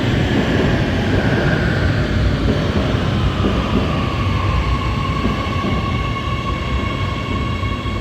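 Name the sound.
metro train passing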